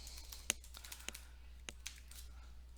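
A computer keyboard is typed on in quick, uneven bursts of light key clicks, close and fairly quiet, with a few sharper taps standing out and no talking.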